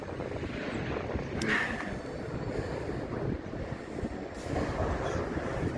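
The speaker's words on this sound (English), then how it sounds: "GB Rail Freight, Class 66. Love Class 66s. With a load of ferry wagons." A GB Rail Freight Class 66 diesel locomotive hauls a train of ferry wagons through Willesden Junction station in London, a loud continuous rumble and rattle heard from the platform, swelling slightly as it passes.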